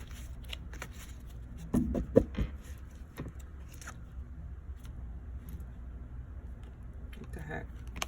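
Cards are shuffled close by in a brief flurry of riffling, then softer handling sounds and faint taps against a quiet room hum.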